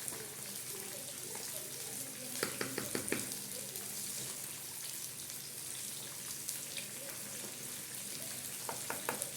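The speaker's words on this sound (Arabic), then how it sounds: "وادي السمك بتاعي اهو بقليه قدامكم" Continuous crackling sizzle of fish frying in hot oil, with a few brief bursts of sharper popping.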